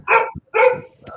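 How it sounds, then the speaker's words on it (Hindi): A dog barks twice, loud and close, in quick succession, followed by a softer short yip. "किसी के वहां से कुत्ता भौंक रहा है"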